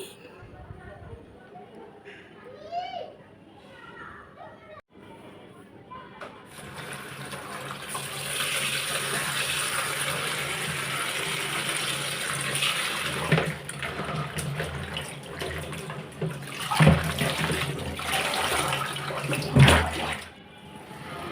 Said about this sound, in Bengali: এদিক দিয়ে কুমড়াটা ধুয়ে নেই